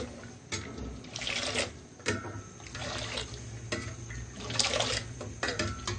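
Cold water is poured into Kashmiri pink tea in several uneven bursts, a splashing, gurgling pour that swells and drops over a few seconds.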